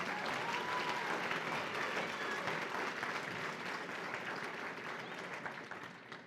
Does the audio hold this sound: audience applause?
yes